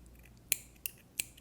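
Scissors snip knitting yarn in three crisp, quick clicks, close and quiet with nothing else in the background.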